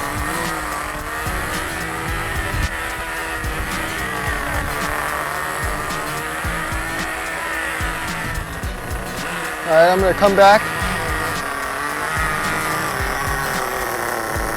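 Nitro RC car engine idling and revving on a rich break-in tuning setting, a buzzy high-pitched drone with a brief louder burst of revs near the end, while someone talks over it.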